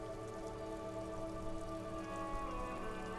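Rain pours steadily on a bleak coast in a detective role-playing game, a continuous soft patter and hiss over a low ambient drone, with no voices.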